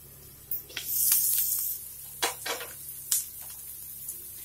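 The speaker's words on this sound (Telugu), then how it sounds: "మూత పెట్టుకుని మీడియం ఫ్లేమ్లో ఒక 3 మినిట్స్ ఫ్రై చేసుకుందాం" Andhra village-style chicken fry cooks in a pan on a medium flame, heard up close as uneven bursts of sizzling and scraping stirs with quiet gaps between, and no voices.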